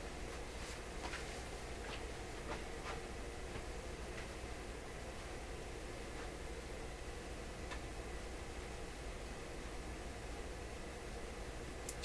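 An Electrohome tube radio, switched on with the volume down, gives off faint, steady static: a soft broadband hiss with occasional small ticks and crackles, quiet and unchanging.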